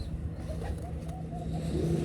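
A white-eyed pigeon coos softly and low, a faint soft call over a steady background rumble, with no talking.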